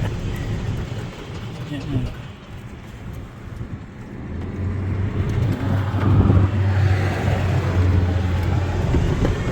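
A Yamaha golf cart fitted with a 48 V, 105 Ah Mosasaur lithium battery speeds along in cold weather, its steady electric whine and wind rush building and holding loud from midway on, with brief voices near the start.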